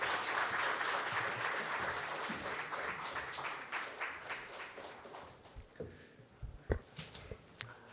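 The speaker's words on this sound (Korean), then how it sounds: "큰 박수로 무대 위로 모시겠습니다" Sustained crowd applause welcoming a speaker to the stage at a 2020 national budget debate forum, dense and steady at first, then thinning out into scattered individual claps toward the end.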